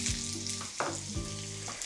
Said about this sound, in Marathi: तेल इथे गरम केलेलं आहे, यामध्ये घालूयात जिरं.